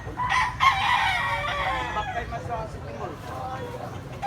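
A gamecock stag crows close by, one drawn-out call followed by clucking, with people chattering in the background.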